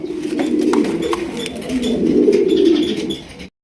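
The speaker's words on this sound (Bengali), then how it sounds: "দর্শক এখানে রয়েছে আমাদের দেশীয় ভাইরাল কবুতর" Soft, low cooing of pigeons rolls on continuously, with a few faint chirps and light taps scattered through.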